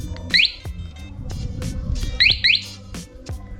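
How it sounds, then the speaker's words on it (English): Several short electronic chirps from the alarm of a 2021 250cc Rebel T motorcycle, two quick pairs close together, over a low idling rumble and a few clicks. "this bike actually comes fitted with an alarm system"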